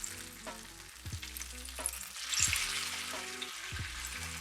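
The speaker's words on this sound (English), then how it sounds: "So cooking the bacon until it's nice and crispy on both sides." Bacon frying in a pan gives a steady close sizzle and crackle, with a few clanks and scrapes from turning the strips.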